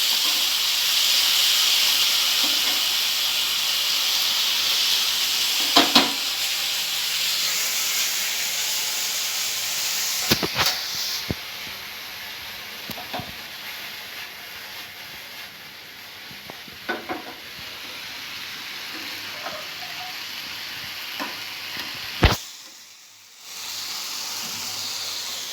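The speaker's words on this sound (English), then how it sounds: "Keep it for 10 minutes with a simmer." Food cooks slowly in a pan over a low flame, giving off a steady soft sizzle and hiss with occasional light clicks and taps, before the sound cuts off near the end.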